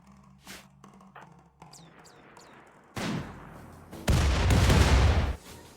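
A triple launcher fires in a video game: after a few quiet clicks and chirps, a loud burst erupts, then a heavier, longer roaring blast rumbles for over a second before cutting off.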